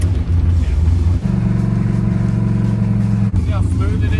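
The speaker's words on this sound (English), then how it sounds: "I can literally hear that the engine is much happier." A 1955 Chevy all-motor drag car idles loudly close by with a deep, steady rumble that shifts to a slightly different note about a third of the way through, then steadies again.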